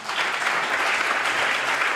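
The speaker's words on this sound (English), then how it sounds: "A round of applause to yourselves." A Western Cape youth parliament chamber breaks into dense, sustained applause, many hands clapping together at an even, full volume with no voices over it.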